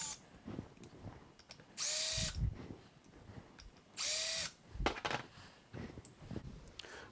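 A power screwdriver backs Phillips head screws out of the counterweight on a MaxShine M21 Pro long throw polisher, two separate loud whirring bursts of about half a second each, with handling clicks and rattles between them.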